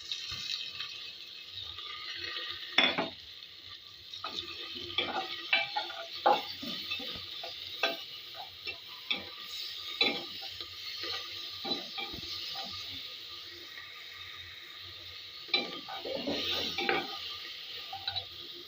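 Spices fry in a pan for a chicken and potato curry, a quiet sizzle punctuated by intermittent scraping stirs and clinks against the metal, close and steady with no speech.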